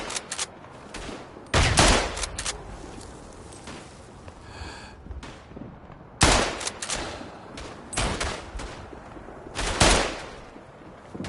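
Rifle and gun shots in the WW1 video game Tannenberg crack out as loud, close single reports spaced a second or two apart, with a brief metallic reload clatter between them and no talk.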